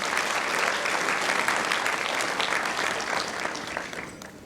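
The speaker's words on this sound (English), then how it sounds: "applaud them, let's celebrate them." An audience at a property awards ceremony applauds steadily, a dense, sustained wash of clapping that fades slightly toward the end.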